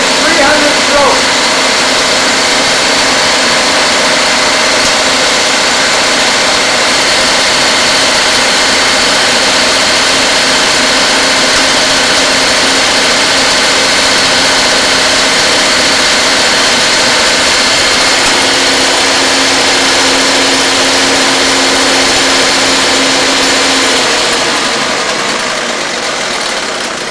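A fuel pump test stand, revved to 900 at full fuel, drones loudly and continuously with a steady engine-like roar and whine throughout, its tone shifting slightly near the end.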